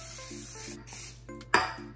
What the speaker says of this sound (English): I have some cooking spray. I'm just gonna spray